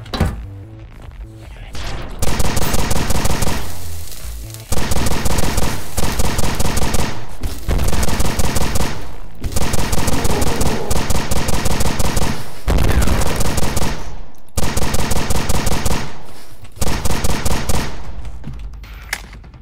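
Dual revolvers firing in Quake 4, loud rapid bursts of repeated shots in several long volleys separated by brief pauses, close and dominant throughout.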